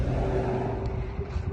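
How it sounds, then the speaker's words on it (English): Steady road traffic with a car rumbling past outside, a continuous low engine drone with a faint whir on top, no voices over it. "Sorry about the traffic."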